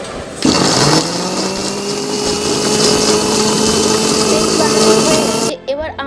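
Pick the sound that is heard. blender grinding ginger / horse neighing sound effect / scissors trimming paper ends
blender grinding ginger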